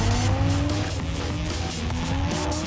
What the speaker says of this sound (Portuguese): E aí o carro fez um drift.